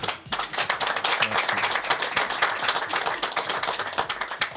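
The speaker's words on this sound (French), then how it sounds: "il va y avoir un tonnerre d'applaudissements derrière" Studio audience clapping for a guest on a football talk show, close and crisp individual claps in a fast, steady patter, with a brief voice beneath at the start.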